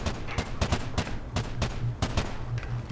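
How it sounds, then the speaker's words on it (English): Silenced submachine gun fire in the Crysis Wars video game on a steel mill map: rapid clusters of muffled, sharp shots repeating in quick bursts, close and fairly loud over a low steady hum. "you got the fucking submachine gun silenced"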